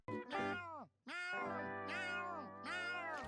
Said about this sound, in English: Gary's meows seem like typical pet sounds.